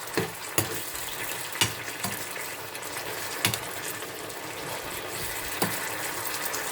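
Chicken stir-fried in oil over low heat with garlic and chili gives a steady, moderate sizzle, broken by a few sharp clicks and scrapes of a utensil against the pan.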